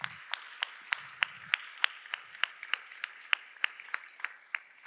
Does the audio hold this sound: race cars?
no